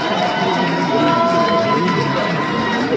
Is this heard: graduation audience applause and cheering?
yes